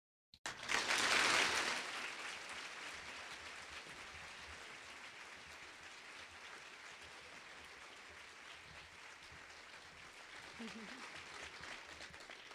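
Large audience of about 900 at a women's fund luncheon bursts into applause, loudest in the first seconds, then settles into steady sustained clapping that continues throughout.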